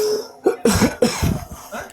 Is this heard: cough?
yes